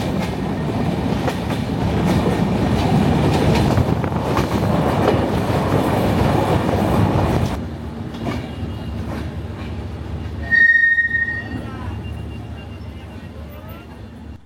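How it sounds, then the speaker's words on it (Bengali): A train runs at speed toward Jashore with a loud, steady rumble and clatter of wheels on the rails. The roar drops somewhat partway through, and a brief high-pitched tone rings out near the end. "আমাদের ট্রেন এবার ছুটতে লাগলো দুর্বার গতিতে।"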